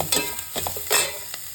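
Sliced onions with ginger garlic paste fry in a pan for restaurant-style gobi manchurian, giving a steady close sizzle broken by brief stirring scrapes and clatters, with no talking.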